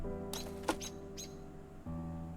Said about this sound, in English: With the sound of lightly fluttering wings,